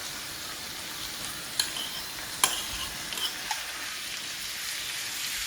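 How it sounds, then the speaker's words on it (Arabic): Seafood such as salmon and octopus fries in a pan with a soft, steady sizzle, punctuated by a few light clicks and scrapes of stirring, close and quiet with no voices. "اللي باقي غنديرو نهبطو كامل في المقله."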